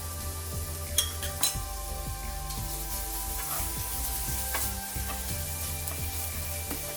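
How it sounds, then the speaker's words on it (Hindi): Onion, crushed ginger and garlic fry over a low flame in a pan, with a steady soft sizzle and repeated scraping clinks of stirring throughout. "अभी इसको अच्छे से मिक्स कर देंगे और अभी इसको लो फ्लेम में 3 से 4 मिनट तक अच्छे से फ्राई करेंगे ताकि जिंजर और गार्लिक का रॉ स्मेल चला जाए।"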